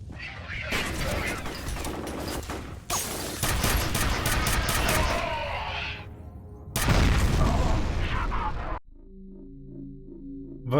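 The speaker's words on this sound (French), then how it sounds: "Ils m'ont pas lancé une grenade." Grenade blast and heavy gunfire in the first-person shooter game F.E.A.R., long loud booming bursts and rapid shots with a sharp cut to quieter electronic game sounds at the end, with a voice in French briefly heard.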